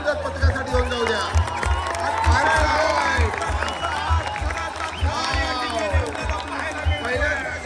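At a Dahi Handi festival in Mumbai, a crowd claps and cheers for a Govinda team, steady loud clapping and hubbub running under someone speaking over a loudspeaker.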